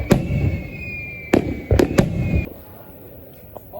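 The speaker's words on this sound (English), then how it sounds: "then I'm gonna catch some fireworks" Fireworks boom in a handful of sharp, fairly close bangs, one at the start then three in quick succession, fading into quiet background afterward.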